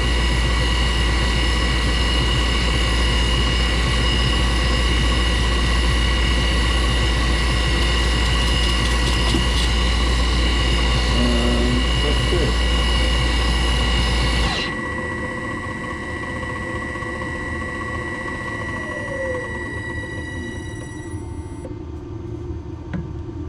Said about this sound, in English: Later on I'll try grinding a lathe centre